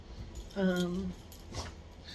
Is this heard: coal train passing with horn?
no